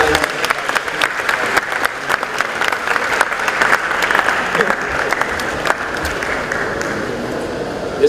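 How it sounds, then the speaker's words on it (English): Ceremony audience applauding a speaker at an opening ceremony exposition, a loud sustained crowd applause that stays steady throughout with dense overlapping claps. "Could you give him a round of applause for him?"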